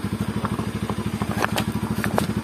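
A motorcycle being pulled and moved over rough, stony ground at Bhimwali Park, Padampur, with a close, steady, rhythmic engine putter and occasional clattering scrapes.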